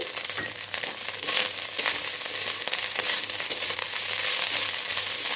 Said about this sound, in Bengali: কাঁচা লঙ্কাগুলো দিয়ে আর একটু ভেজে নেব